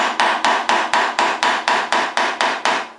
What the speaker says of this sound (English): Go along and peen the back of that.